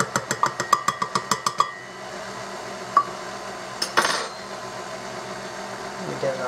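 Stand mixer working flour into dinner roll dough: a quick run of rhythmic metallic clinks opens, then a steady motor whir carries on with a few scattered knocks.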